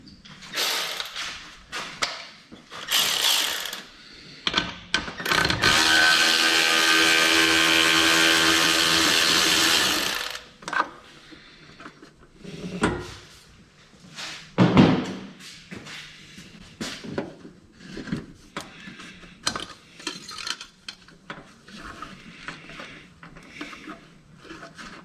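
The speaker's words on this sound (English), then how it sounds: "I'm gonna take this hose clamp off the bottom of the pipe here" A hose clamp being loosened and removed from the bottom of an intake pipe during SpeedFactory thermal intake manifold gasket work: a long, continuous whirring ratchet or power-driver run of about five seconds, followed by scattered clicks, clanks and rustling handling noises.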